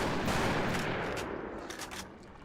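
Video game gunfire from The Thing Remastered forms a dense, continuous roar of rapid shots that holds steady and then slowly fades.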